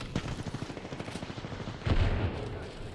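Automatic gunfire in the battle royale game Apex Legends, a rapid, rhythmic burst of shots over a couple of seconds followed by a heavier, louder impact, mid-distance.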